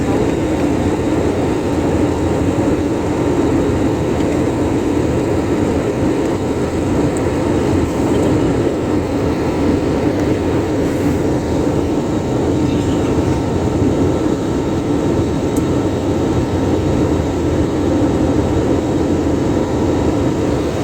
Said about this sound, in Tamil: ஃப்ளைட் வந்து மூவ் ஆகிட்டு போயிட்டுருக்கு.